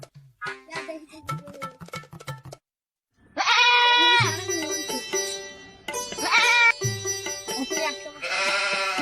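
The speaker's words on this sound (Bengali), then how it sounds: "ভাই, এই ছাগল" A goat bleating in short, loud, nasal calls, several cries close by in the second half, after a quieter stretch of handling noise and clatter at the start.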